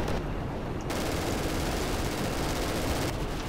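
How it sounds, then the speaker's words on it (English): Sustained dense machine gun fire in the WWII shooter Darkest Hour: Europe '44-'45, a loud continuous roar of rapid shots with no clear gaps between bursts. "It's our machine gunners"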